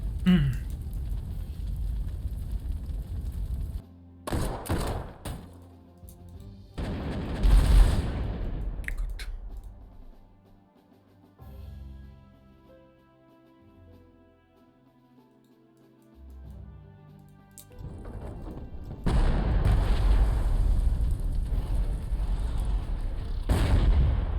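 Artillery and gunfire from the strategy game Panzer Corps 2 come in loud bursts separated by quieter stretches, with a long heavy barrage building toward the end.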